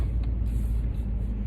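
A widebody Mercedes CL55 with a supercharger pulley, long tube headers and no catalytic converters gives a deep, steady exhaust rumble, close and brief.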